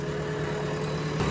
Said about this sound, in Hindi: JCB की खुदाई तो चलती रहेगी